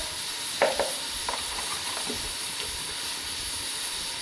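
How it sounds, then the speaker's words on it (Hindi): Chili flakes, crushed red chili, turmeric and cumin roasting in a pan for mutton biryani, a soft steady hiss with a few sharp scraping stirs near the start. "अच्छी तरह से मैं ये सारी चीज़ों को भून लूँगी"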